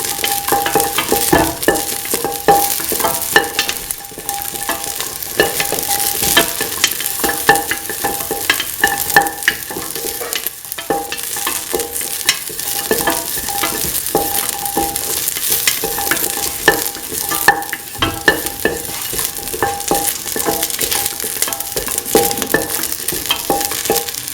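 Stew ingredients for a kidney bean, green pea and coconut milk stew being stirred in a pan, with continuous busy scraping and clinking under a steady sizzle throughout.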